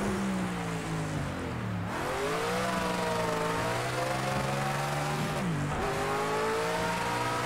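A V8 race car engine in Project CARS 2 at a snowy Bathurst, revving hard and loud, climbing through gears with two brief lifts for shifts, continuous and close, no talk.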